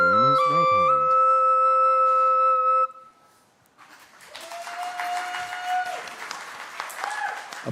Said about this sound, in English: Applause here at the library, and Alex is...